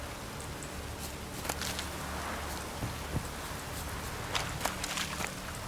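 Rain falling in The Witcher 3: Wild Hunt, a steady soft hiss throughout with scattered brief taps and thuds over it, no talk.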